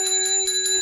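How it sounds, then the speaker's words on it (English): A small bell rings rapidly and brightly, close and loud, its clear tone sustained through several quick strikes with no talking. "we're ringing the bell again"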